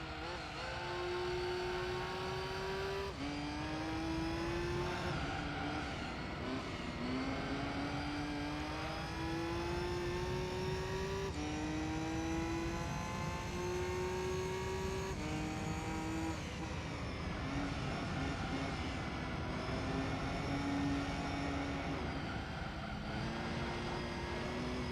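Race car engine from Gran Turismo 3, a roughly 800 horsepower all-wheel-drive car on track, droning loudly and continuously as it climbs through gears with repeated upshifts and steady revving, no talking.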